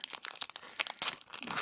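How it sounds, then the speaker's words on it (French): Close crinkling and tearing of a Japanese Pokémon card booster pack wrapper as it is opened, in a quick series of sharp crackles lasting under two seconds. "Il faut mieux prendre des ciseaux sur les japonaises, parce qu'elles sont impossibles à ouvrir"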